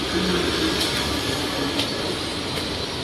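A Bangkok Yellow Line electric train runs between Bhawana and Lat Phrao stations, heard as a steady close rolling rumble with faint wheel squeal and light rattles, no talking.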